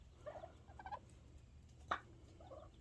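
Turkeys gobble in a few short bursts, moderately close, on a homestead during a 2022 arctic cold snap, with a brief sharp knock in between and a low background rumble.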